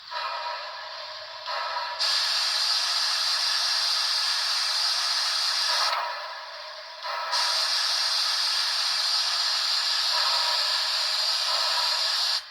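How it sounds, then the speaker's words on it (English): An Athearn 2-6-0 Mogul model locomotive's sound decoder plays steam hissing from the cylinders: loud, sustained bursts of bright hiss that cut out briefly and resume, several long releases in a row with nothing else heard. "F4 is steam release, or steam hissing from the cylinders."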